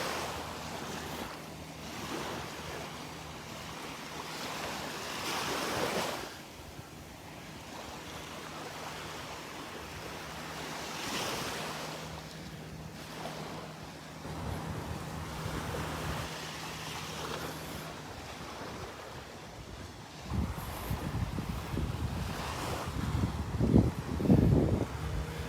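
Surf washing onto the beach at Delnor-Wiggins beside a sandbar, a steady wash of waves with some wind noise, building to louder, closer breaking water near the end.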